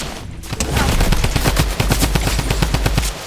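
Rapid automatic gunfire rattles out in a long, loud burst in a Blitz Royale battle royale video game, the shots close and regularly spaced, stopping abruptly at the end.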